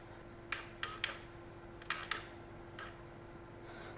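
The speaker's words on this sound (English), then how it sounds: "you can hear quite easily the power valve moving up and down there, and at the end you can hear the fuel pump spin" During an ECU relearn on a motorcycle, the power valve servo gives faint brief whirring clicks in a few short bursts, followed by a soft hum from the fuel pump, against a quiet background hum.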